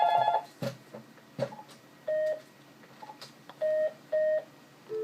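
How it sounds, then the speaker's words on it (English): A mobile phone rings with a repeated electronic ringtone: short, clear beeping tones in bursts, interspersed with a few soft thumps and clicks, fairly close and loud. "my phone's going. Let me put that on hold."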